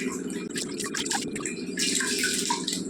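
Rice-washing water is poured out, splashing and trickling steadily with a brief louder gush near the end, close by, with no talking.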